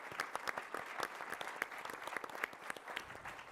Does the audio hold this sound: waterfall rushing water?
no